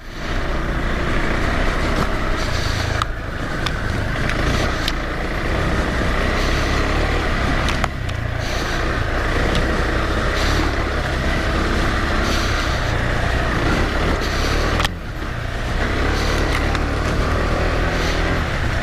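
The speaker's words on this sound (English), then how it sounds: "Off camber again, just leaning the bike into the hill." A KTM 390 Adventure motorcycle rides an off-camber trail in the UK, its engine droning loud and steady up close with wind rush and brief dips where the throttle eases.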